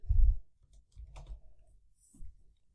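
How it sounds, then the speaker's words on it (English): Computer keyboard typing, a few soft, separate keystroke thumps and clicks, close and quiet, with short pauses between them. "Within which I'm typing the YouTube text."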